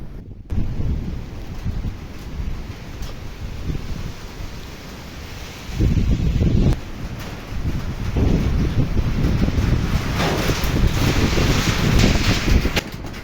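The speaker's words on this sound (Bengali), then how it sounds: "নদীর যে অবস্থা মানে পুরো উত্তাল ঢেউ, প্রচণ্ড বাতাস।" Strong wind roars across a river churned into rough waves just before rain, a loud, continuous rushing that swells in gusts and grows stronger toward the end.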